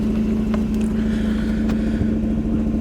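Warm Mazda RX8 rotary engine idling steadily nearby, a smooth even hum that holds throughout with no talk.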